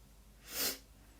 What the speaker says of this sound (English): Sorry if you can hear me breathing up too.